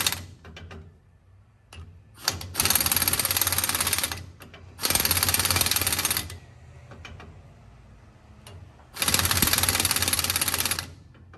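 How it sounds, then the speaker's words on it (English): An impact wrench in a car rear end rebuild, crushing the pinion crush sleeve: three long, loud, rattling hammering bursts separated by quieter pauses with clanks and handling noise. "now we're going to have to turn the impact up because now we are trying to crush the crust sleeve"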